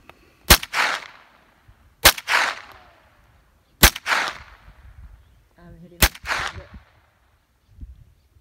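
A gun is fired outdoors in the Pine Valley Mountain area, four sharp loud shots spaced about two seconds apart, each echoing briefly, with faint voices in the background.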